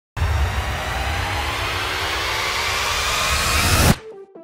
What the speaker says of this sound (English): Layer pretty much every riser from my sample pack.